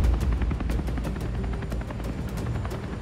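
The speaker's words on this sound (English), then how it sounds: "We heard the noise of the helicopter." A rescue helicopter hovers over a life raft in hurricane-force winds, its steady rotor thumping loud and continuous throughout, with a dense low roar and no talking.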